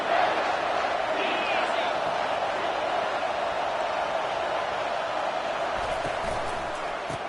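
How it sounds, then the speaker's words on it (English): A stadium crowd in a college football video game, Michigan State against Michigan, roars in a steady loud wash with cheers and whoops under an announcer's commentary. "This crowd knows when to bring it."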